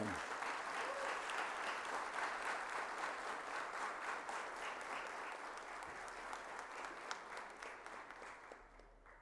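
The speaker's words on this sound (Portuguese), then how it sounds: "Pedir uma salva de palmas de vocês" A formal ceremony audience at a solemn medal session gives sustained applause, many hands clapping in a continuous dense wash that holds steady for about nine seconds before gradually thinning toward the end.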